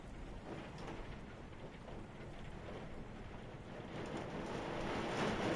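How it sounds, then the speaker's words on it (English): Heavy rain pours down in the video game Conan Exiles, a dense, steady roaring wash that grows louder toward the end, with no voices. "That rain is loud."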